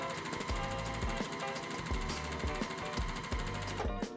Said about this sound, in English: we're going to sew all the way down 1/4 inch seam